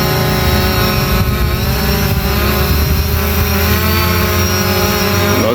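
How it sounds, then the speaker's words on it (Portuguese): A drone flying over Praça do Japão in Umuarama gives off a loud, steady, close rotor whine and hum that continues without a break. "para fazer mais um voo para você com o nosso drone aqui da Praça do Japão"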